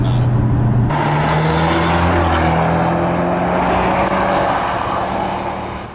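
A Ferrari California T accelerates hard, its engine note climbing through the revs loud and close, then easing and fading slightly toward the end.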